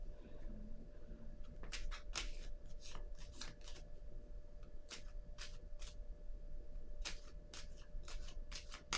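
Tarot cards snap and riffle in quick, crisp bursts as a deck is shuffled and cards are drawn, close and fairly quiet over a low steady hum.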